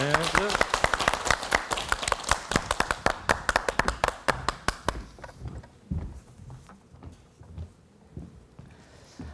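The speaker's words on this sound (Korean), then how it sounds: "오늘 김은혜 선생님의 강연을 큰 박수로 청해 듣겠습니다" An audience applauds to welcome a lecturer to a special talk on dying well, with dense clapping loudest at first and thinning out into scattered claps. Voices can be heard faintly underneath.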